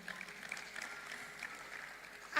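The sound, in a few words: applause, audience clapping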